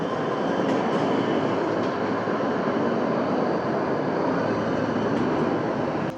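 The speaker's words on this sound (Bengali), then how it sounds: "কত বড় ব্রিজ, এটা দেখেন, উপর দিয়ে ট্রেন যায়, বাস যায়, গাড়ি যায়, সব যায়।" A train crossing a large bridge, its steady rumble and clatter of wheels rolling on continuously and loud for several seconds, with faint metallic squeals now and then and no voices.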